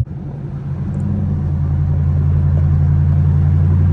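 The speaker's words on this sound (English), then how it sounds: "how loud the car is, because no one knows how loud it really is" A straight-piped C7 Corvette Grand Sport driving in the city with the roof off, a loud, deep, steady exhaust rumble that builds quickly from a brief dip and holds close and heavy.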